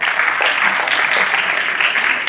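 Loud, steady applause from an audience at a family gathering, a dense continuous roar of many hands clapping without a break, with no voice rising above it.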